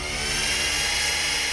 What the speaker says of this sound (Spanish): Mas cuando encendió el taladro